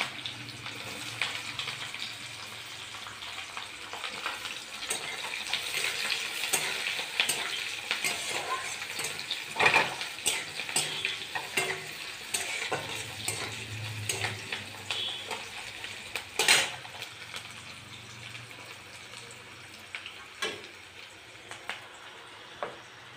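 Garlic and onion hiss and crackle steadily in hot oil over a cumin-seed tempering, close by, with occasional sharper pops and stirring scrapes throughout and no voices.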